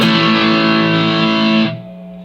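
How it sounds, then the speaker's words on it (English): Electric guitar through an amp with the distortion cranked way up rings out as one loud, crunchy sustained chord that holds steady and then cuts off abruptly near the end. "Now I have the distortion level cranked way up, so it's pretty crunchy."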